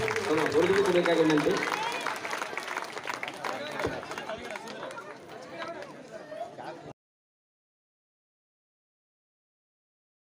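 Audience applause at a guru tribute ceremony in Kanabur, a loud burst of clapping from a crowd that gradually thins out, with a voice speaking over it before it cuts off.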